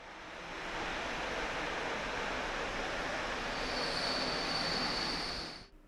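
A train pulling into a Warsaw station platform after a city-centre tunnel rolls steadily with a continuous broadband rumble and a high metallic wheel squeal near the end before the noise drops away.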